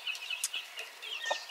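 Young chickens with developing combs cluck and chirp in short, bright bursts, fairly close and moderately loud, with no talking over them.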